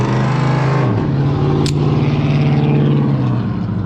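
A truck passing on the highway, heard from inside a moving 2021 Ford F-150 Hybrid at about 80 mph: a loud, steady road and engine drone that swells and shifts in pitch as the truck goes by, with no talking.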